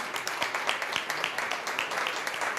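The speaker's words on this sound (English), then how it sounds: "Round of applause for everybody." Conference audience applauding at a startup summit, a brief burst of quick overlapping claps with sharp individual hand strikes, fairly close and steady throughout.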